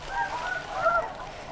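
Snow geese honk repeatedly outdoors during a conservation hunt. Several overlapping calls sound at mid distance over a quiet background.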